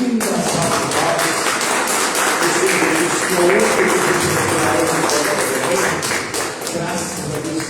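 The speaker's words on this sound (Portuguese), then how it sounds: "vamos dar aquela linda salva de palmas" A church congregation at a Christian worship service stands and gives a round of applause, loud dense clapping filling the room with voices mixed in underneath.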